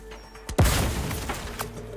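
A grenade explodes in the video game The Outer Worlds 2, a single sharp, loud close blast followed by a rumbling, debris-like tail and some faint scattered impacts.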